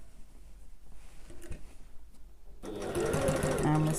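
A sewing machine stitching along a backpack seam starts up partway through, its loud, fast, steady whirring taking over after a quieter stretch with a voice.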